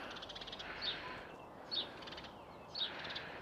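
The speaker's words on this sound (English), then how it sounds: "Oh, the blackbird's just come to say hello." A blackbird calling in a garden in April: three short, sharp high chips spaced about a second apart, standing out over a soft outdoor background, with no talking.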